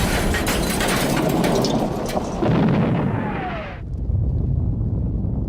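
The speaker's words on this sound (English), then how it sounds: "Also explosions." Explosions from a classic-era Thomas & Friends episode boom and rumble loudly for several seconds, with a descending whistle-like tone before the noise cuts off abruptly into quieter background.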